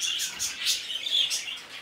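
Newly acquired pet birds chirp in quick, high, bright bursts that rise and fall steadily through the moment, with no one talking.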